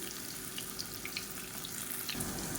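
Raw banana slices fry in hot oil in a pan, giving a dense, continuous hiss and crackle that swells slightly near the end; no voices.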